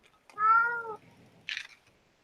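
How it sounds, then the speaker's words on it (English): A cat lets out a single drawn-out meow close by, followed after a pause by a short, soft rustling noise. "She's a kitty and she knows it."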